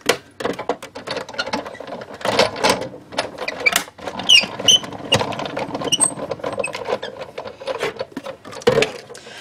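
A die cut machine runs a die through whisper white cardstock, giving a steady mechanical whirring and crunching grind with uneven bursts and clicks, close and fairly loud, with no talking.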